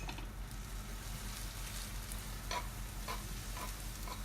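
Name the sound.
stirring pork sauce with onions and water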